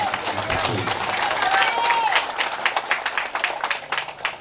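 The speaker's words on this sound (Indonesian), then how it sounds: "Aplaus dulu, aplaus." Audience applause at a community gathering and aid handover in Kelurahan Heledulaa Selatan, a steady crowd clapping that holds near and fairly loud throughout, with a whistle-like tone and some voices mixed in.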